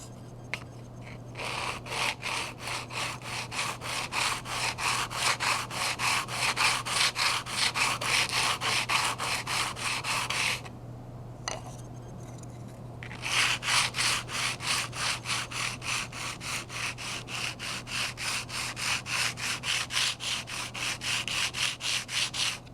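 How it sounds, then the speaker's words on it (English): Balsa wood is dragged back and forth over sandpaper strips in steady, rhythmic rasping strokes, close up and continuous, with a brief pause partway through before the sanding resumes. "you drag this back and forth on those pieces of sandpaper"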